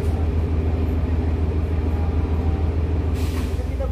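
A commuter train pulls away from Surabaya Pasar Turi station with a continuous heavy low rumble, and a short burst of air-brake hiss breaks out near the end.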